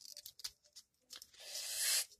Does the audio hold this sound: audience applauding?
no